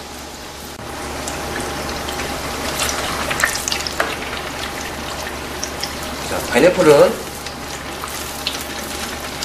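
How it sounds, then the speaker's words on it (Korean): Battered shiitake mushrooms and pineapple deep-frying in hot oil, a steady bubbling sizzle with a brief louder burst, under a voice talking. "밀가루 묻혀놓은 표고버섯을 튀겨보도록 하겠습니다"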